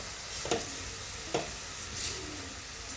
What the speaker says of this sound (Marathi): मस्तपैकी हा थोडा कांदा शिजू देऊया